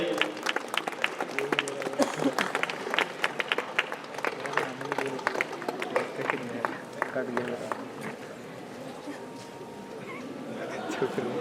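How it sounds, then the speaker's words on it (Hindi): Audience at a college Christmas gathering and English magazine launch gives a round of applause, with dense, sustained clapping from many hands in a hall that continues for several seconds, with voices in the background. "जोरदार तालियों के साथ आप अपना उत्साह दिखाइए।"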